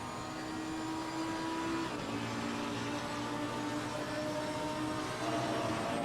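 A GT3 race car engine in Assetto Corsa Competizione, throttle rising and easing as it takes a corner, steady mechanical drone at moderate distance.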